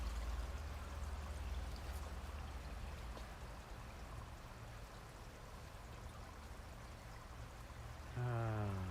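A faint, steady wash of flowing water trickling continuously, with a low hum rising near the end.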